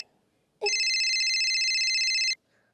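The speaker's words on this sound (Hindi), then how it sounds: "फोन किसका आ रहा है?" A telephone ringing indoors during a Hindi comedy sketch, one continuous electronic trill lasting nearly two seconds, loud and close, beginning abruptly after a short hush and cutting off cleanly.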